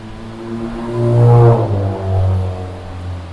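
A motorcycle engine runs close by with a steady low hum that swells briefly as if revved, then settles back to a steady idle.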